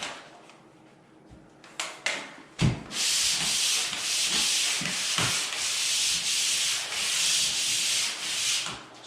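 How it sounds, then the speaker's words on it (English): Drywall corner bead being hand-sanded with light, long strokes, a close rasping scrape that swells and fades steadily, preceded by a few soft taps and knocks. "when sanding a corner bead, you want to do long strokes and just light long strokes"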